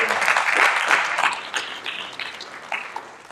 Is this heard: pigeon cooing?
no